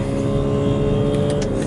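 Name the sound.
BMW X5 xDrive45e accelerating in hybrid mode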